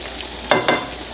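Steady sizzle of garlic frying in an aluminum pan, with two short scraping stirs of a utensil partway through.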